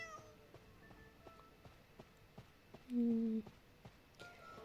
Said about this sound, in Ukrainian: І він нявкає.